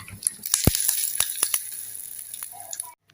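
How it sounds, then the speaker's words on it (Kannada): Spices crackling in hot oil as a tempering is poured for brahmi leaf chutney, a steady sizzle with sharp pops and spits in the first part, easing off toward the end. "ನೋಡಿ ಒಗ್ಗರಣೆ ಹಾಕ್ತಾ ಇದ್ದೇವೆ"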